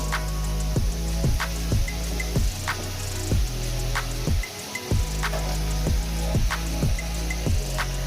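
Water goes into fried rice cooking in a pan, made with chicken, prawns and egg, bringing a run of soft drips and squishy sizzling taps in an irregular rhythm, close up and fairly quiet.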